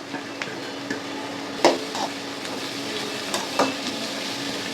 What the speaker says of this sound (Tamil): இப்போ இந்த ஆனியனும் கேப்சிகமும் ஒரு 5 minutes வேகட்டும்.